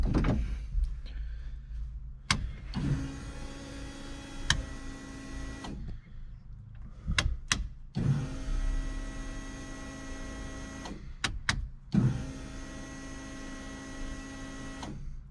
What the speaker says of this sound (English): Fuel pumps still work.